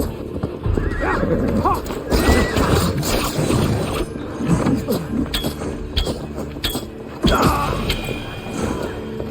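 Horses whinny and hooves clip-clop during a battle in the Siege of Paris in the Assassin's Creed Valhalla video game. The scene is loud and busy, with clashing and shouting voices throughout.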